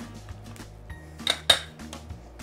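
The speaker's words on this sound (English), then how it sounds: "I'm gonna use my potato masher here to squish it all up" A potato masher squishes cooked kohlrabi with melting butter in a pot, giving scattered metallic clinks and scrapes, two sharper knocks midway, over a low background hum.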